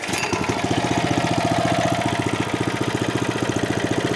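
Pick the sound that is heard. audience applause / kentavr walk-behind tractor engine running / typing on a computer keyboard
kentavr walk-behind tractor engine running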